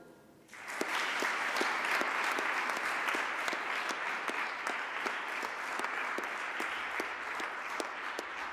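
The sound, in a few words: audience applause at a graduation ceremony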